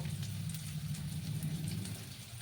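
Onions frying in a pan for Sylheti forash bichi dal, a close, steady sizzle like light rain, with no talk.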